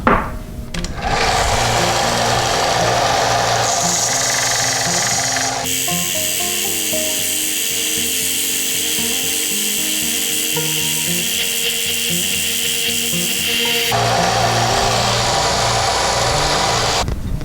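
A power tool cuts down the lip on the edge of a 1.5-inch pipe reducing bushing, part of a water softener backwash air gap fitting. It makes a steady, loud, whining mechanical drone that changes pitch partway and runs almost continuously.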